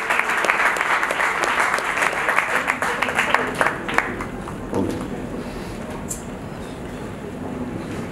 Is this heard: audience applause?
yes